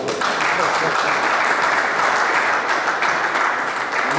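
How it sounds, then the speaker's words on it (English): A convention audience at an international ANA gathering in Ilorin breaks into loud, sustained applause, a dense wash of many clapping hands that carries steadily from start to finish. "I think we should clap for it."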